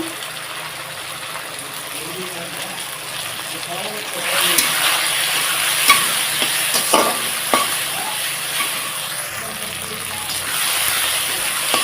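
Chili paste and coriander powder fry in a pan for a desi chicken curry, a steady close sizzle that swells as stirring begins, with scraping clicks and a voice talking over it.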